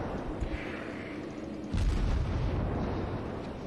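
A naval gun fires in World of Warships, sounding as one sudden booming blast partway through that leaves a loud rumbling tail over the steady background din of battle.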